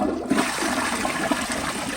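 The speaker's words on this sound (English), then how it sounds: "here is another flush with the handle held down" A Peerless Hancock elongated comfort-height toilet flushes with its handle held down, giving a loud rushing surge of water that continues steadily for the whole couple of seconds.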